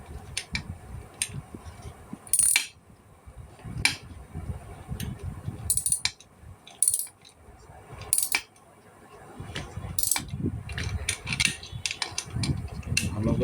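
Small metallic clicks, ticks and scrapes come up close as screws on a ceiling fan capacitor connection are tightened, with irregular bursts of sharper rattling between quieter handling sounds.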